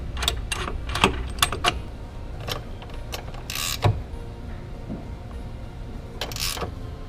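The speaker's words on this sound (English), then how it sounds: "Last step, you're going to tighten the bushing bolt." Bolt being tightened on a differential brace bushing of a Mazda RX7 FD, a run of quick metallic ratchet clicks in short bursts with brief pauses, close and fairly clear, no talking.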